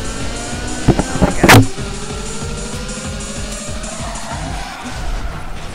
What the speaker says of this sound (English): I forgot to use my nitrous. That's okay. I can use it here.